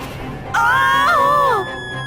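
A girl screams loudly in one sustained, wavering cry lasting about a second, rising sharply out of a quieter background and then cutting off.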